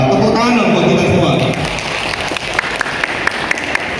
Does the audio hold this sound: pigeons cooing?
no